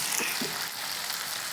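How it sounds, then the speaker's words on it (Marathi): Potato pieces sauté in hot oil with a dense, continuous sizzle, close and steady, with a couple of brief soft stirring touches near the start. "अशा पद्धतीने छान आपले मस्त तेलात बटाटे परतत आहे।"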